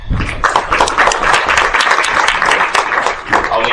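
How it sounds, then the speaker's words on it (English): A conference room audience at a side event claps for the speakers in a loud, sustained wash of applause lasting several seconds, steady and close. "let's give them a hand"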